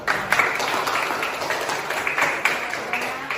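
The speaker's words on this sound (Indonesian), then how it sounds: "kita beri aplaus" Applause from students in a classroom during a civics lesson, a steady patter of many hands clapping at moderate volume with no speech over it.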